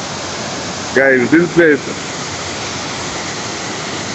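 A village waterfall splashing everywhere makes a loud, steady broadband roar that fills the whole clip, close by, with a brief spoken voice over it near the start.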